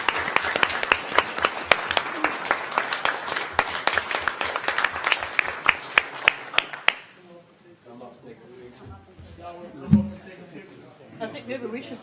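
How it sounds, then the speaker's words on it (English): Applause at a parish council meeting honoring a champion: a room of people claps loudly and sharply for about seven seconds, then it stops and voices take over. "let's give our champion a round of applause."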